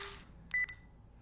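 A phone call in a visual novel game cuts off with a brief double electronic beep, clear and isolated against near silence after a short burst of noise.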